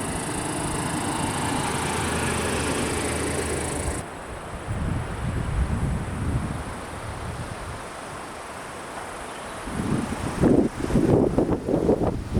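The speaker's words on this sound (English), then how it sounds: "And it's still windy." Wind blowing on the Pine Creek Trail in Sabrina Basin, a steady rushing roar with gusty microphone buffeting, easing partway through and then returning in bursts near the end.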